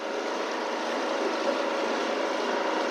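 A motorboat engine drones steadily on Kerala backwaters near Pallathuruthy, where houseboats are moored, a continuous close hum that holds at an even level throughout with no voices.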